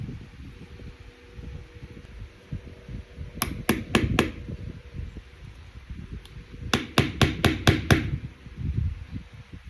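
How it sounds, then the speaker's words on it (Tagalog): A hammer knocks a backhand grip into place on a Canik TP9SF Elite pistol: a quick cluster of four sharp taps, a pause, then a faster run of about six taps, close and loud over a low background rumble. "pinukpok natin ang martilyo kasi sobrang tigas"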